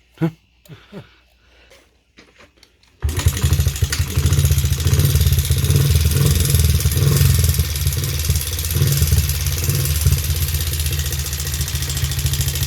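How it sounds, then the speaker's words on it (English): Honda CRF50/XR50 small motorcycle engine running with tapping valves, a few faint knocks before it starts, then a loud steady idle with a fast mechanical ticking clatter throughout. "it's not our fault that the valves are tapping like that"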